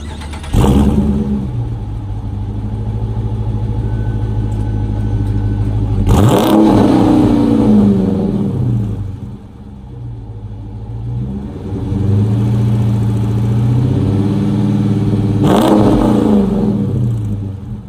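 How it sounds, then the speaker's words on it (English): A Jeep Grand Cherokee Trackhawk SUV engine cranks and catches, then revs up loudly several times, each rev rising and falling before settling back to a steady idle. "We're going to start it up."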